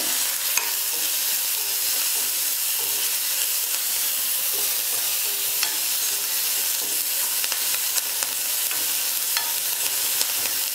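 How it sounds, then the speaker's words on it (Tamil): Finely chopped small onion sautéing in a pan, giving a steady close hiss and crackle of frying with occasional faint stirring ticks, continuous throughout. "வெங்காயம் ஒரு 2 நிமிஷம் நல்லா வதக்கிக்கலாம்"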